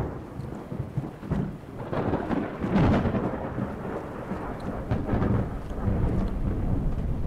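Steady rain patters and hisses while thunder rumbles and rolls in heavy waves during a Fallout 4 storm, the downpour continuous and fairly close with no voices.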